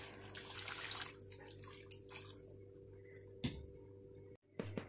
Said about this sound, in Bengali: এবার আমি এটাতে দিয়ে দিচ্ছি জল।